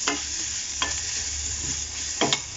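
Scraping stirs of a spoon through mushroom kaalan masala frying in a pan, with a steady sizzle underneath and a few louder scrapes spaced apart.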